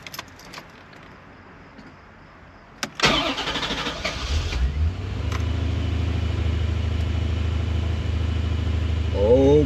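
Chevrolet Corvette C4 with a newly installed fuel pump, a few faint clicks and a key turning, then a short starter crank catching into a loud start that settles into a steady, close rumbling idle.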